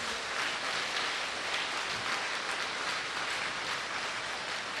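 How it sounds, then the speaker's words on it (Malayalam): Congregation at a Malayalam Christian worship service clapping with raised hands in praise, a dense, steady wash of applause filling the space throughout without a break. "ഒന്ന് കൈ ഉയർത്തി കൈയടിച്ച് കർത്താവിനെ മഹത്വപ്പെടുത്തും."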